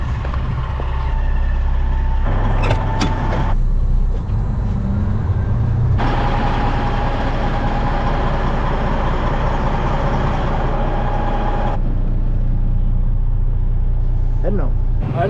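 Truck driving along a rural road, a steady low engine drone and road rumble from inside the cab with shifting tones, with a person talking over it.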